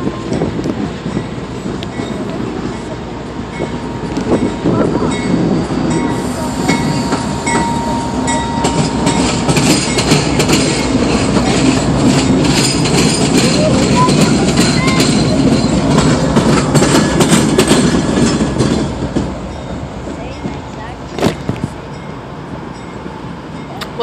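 A freight train with a Dash 9 locomotive rolls past in Saginaw, a loud sustained rumble of railcars with clattering wheels that swells, holds for about fifteen seconds, then fades, ending with a few sharp clanks.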